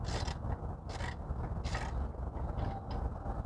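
A wrench pries a brake caliper off its slide pin on a Ford Flex during a brake job, making close, grinding metal scrapes and creaks in uneven bursts over a constant low background rumble.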